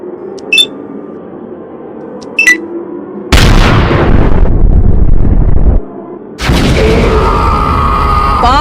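Grenade blast in a Fallout video game: two brief beeps, then a loud sustained booming explosion with rumbling debris, a pause, and a second long roaring blast.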